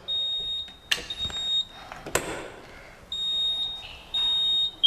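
After a pull station is triggered, a fire alarm sounds a shrill, high electronic tone that comes in long bursts. It is broken up by a couple of sharp clacks and bangs nearby.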